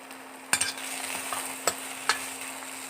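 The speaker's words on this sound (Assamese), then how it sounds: "ভালদৰে এবাৰ আমচুৰ মছলাখিনি দি পেলাই লৰাই দিব" Okra fry being stirred in a pan after amchur powder is added, giving a low steady sizzle broken by a few sharp scrapes of the spoon against the pan.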